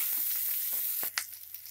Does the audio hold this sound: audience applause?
no